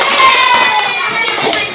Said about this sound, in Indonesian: Oke, tepuk tangan semuanya untuk kelompok 3.